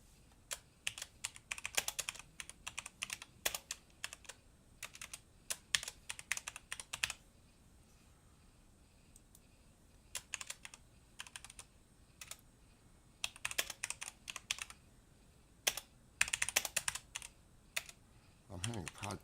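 Bursts of fast clicking keystrokes on a computer keyboard, close and fairly quiet, coming in uneven flurries separated by short pauses.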